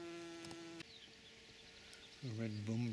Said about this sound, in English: And the bees absolutely love it.